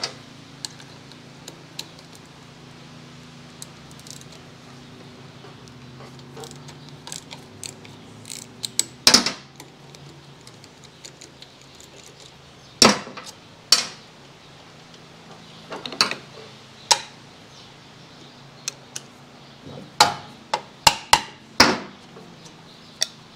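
Side cover being removed from a Yamaha GT80 motorcycle: a quiet mechanical hum gives way to scattered sharp metallic clicks, taps and ratcheting snaps of tools and screws, close by, with no talking.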